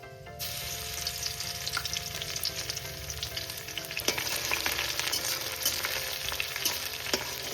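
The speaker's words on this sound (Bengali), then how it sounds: "এবার সবার প্রথমে আমি দেব রসুন থেতো করে রাখা।" Crushed garlic sizzles hard in hot oil after tempering spices, a dense, steady crackle and hiss running throughout with occasional stirring clicks, close and loud, with no talking.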